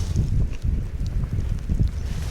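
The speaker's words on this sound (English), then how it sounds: "It's giving me a bit of shelter for the wind." Wind gusting at a campsite in Glencoe beside a tent sheltered by rocks, buffeting the microphone in low, uneven rumbling bursts, close and fairly loud, with no voices.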